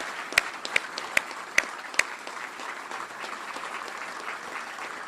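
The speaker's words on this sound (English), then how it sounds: "How about a big round of applause for the great Lieutenant General Maria Barrett." Audience at a US Army Cyber Command change of command ceremony applauds steadily for a lieutenant general, with a few sharp, louder claps standing out early before settling into an even, sustained wash of clapping.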